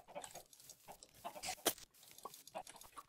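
Chickens in the Minecraft video game cluck in short, uneven bursts, one loud squawk standing out midway, with no voices present.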